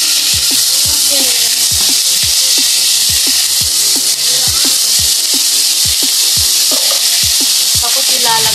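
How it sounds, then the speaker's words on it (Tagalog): Cabbage and egg stir-fry in a hot pan with a loud, constant sizzle, punctuated by regular scraping knocks of a spatula stirring the food. "Ito po ay stir-fried cabbage."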